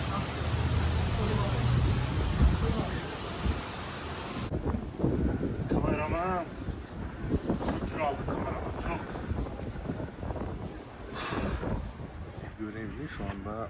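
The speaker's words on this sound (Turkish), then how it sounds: "Rüzgar bizi savurmasına tabi." Gusty wind roars and buffets the microphone in Sarajevo, strongest in the first few seconds, with a voice talking over the rushing noise.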